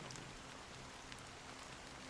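Rain falls steadily in the video game Honkai Star Rail, a soft, even hiss of drops on surfaces, faint and continuous with no voices.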